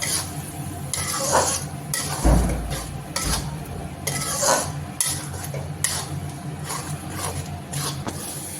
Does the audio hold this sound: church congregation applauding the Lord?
no